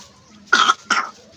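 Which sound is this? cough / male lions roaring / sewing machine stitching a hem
cough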